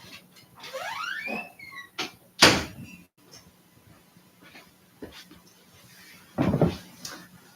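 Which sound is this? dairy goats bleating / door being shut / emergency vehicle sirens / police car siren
door being shut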